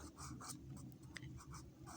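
Quiet pen or marker strokes on paper or a board during a class 3 maths lesson, a rhythmic series of short scratching bursts, close and soft with no talk.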